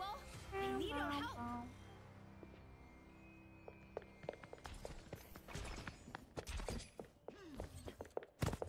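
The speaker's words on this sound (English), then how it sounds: "I hear footsteps. Where are they?" Footsteps in the Overwatch video game: a scattered run of light, sharp taps and clicks over game effects, preceded by a burst of chirpy tonal sounds.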